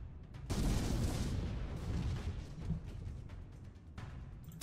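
Ship cannons firing in the naval sea battle of Port Royale 4: a heavy boom rolls into a sustained rumbling barrage, with a fainter follow-up blast near the end.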